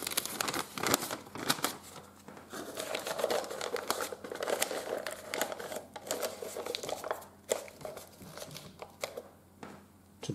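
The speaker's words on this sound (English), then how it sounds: "This is a paper coffee filter." A paper coffee filter handled up close, with irregular soft crinkling and rustling bursts, some sharper crackles, then quieter stretches, no talk.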